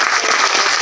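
An audience at a turmeric project distribution event welcomes the Kandhamal MP with a dense, loud, continuous round of applause from many people.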